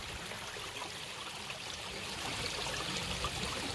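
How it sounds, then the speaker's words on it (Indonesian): A small river beside a house in Sawangan Permai flows with a steady, soft, broadband rush of water, continuous and even, with no voices. "ini adalah kali di samping rumahku. Airnya cukup jernih"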